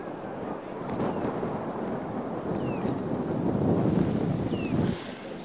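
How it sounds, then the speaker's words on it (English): Strong wind buffets the microphone at an outdoor youth rowing championship time trial, a continuous low rumbling roar that swells and eases, with faint higher sounds drifting in the distance. "It's getting windy out here."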